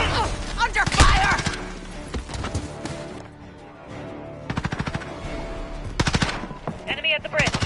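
Rapid automatic gunfire bursts in Call of Duty Modern Warfare, loud and close, interleaved with single shots and brief pauses, and a voice calls out briefly among them.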